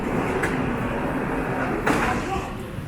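Shanghai Metro line 8 train doors sliding at a station platform, a steady rumbling platform din with a brief rush of noise near the end as the doors move, set against background voices.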